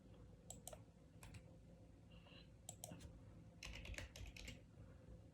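Typing on a computer keyboard, quiet clusters of quick keystroke clicks in short bursts separated by pauses, with a denser run of taps near the end; nobody speaks.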